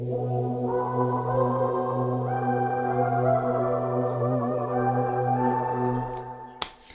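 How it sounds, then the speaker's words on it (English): A sustained analog synth pad, a TEO 5 factory preset, of stacked tones swells with a soft, choir-like vowel quality, holding steady for several seconds before cutting off with a brief click. "you get these weird like choir-like sounds from an analog"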